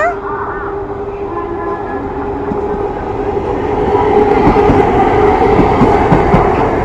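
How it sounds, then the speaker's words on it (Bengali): A train rumbles past, its clatter of wheels on rails growing louder and nearer over several seconds, with a faint tonal whine above. "ওই দেখো ট্রেন আসছে"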